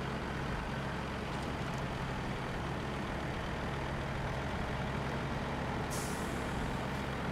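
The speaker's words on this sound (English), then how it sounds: "You're just kind of like chugging around in your trucks, doing what you want to do." Heavy off-road trucks in the snowy driving game SnowRunner chug along with a steady low engine rumble, continuous and fairly close, with a brief hiss like an air brake near the end.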